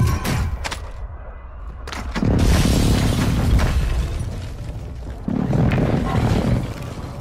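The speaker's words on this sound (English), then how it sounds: "Airstrike." Deep booming airstrike explosions roll through a video game battle, two heavy sustained blasts with rumbling tails, and a brief exclamation from a player over the noise.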